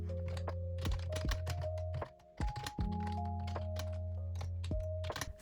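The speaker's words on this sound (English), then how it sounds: "To use my iPad like a computer, I use my Bluetooth keyboard and mouse from Logitech" Rapid clicking keystrokes on a Logitech Bluetooth keyboard paired with an iPad Air 5, with close, crisp taps in an irregular rhythm over a steady background tone, and a short pause midway.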